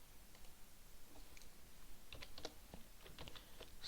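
Faint keyboard typing while VBA code is written on a computer: soft, irregular clicks with brief bursts of keystrokes, close to the microphone over quiet room hiss, no voices.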